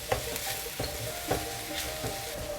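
Ginger garlic paste and onions sizzle in hot oil with a steady frying hiss, broken by a few soft stirring scrapes at an even pace; close and alone.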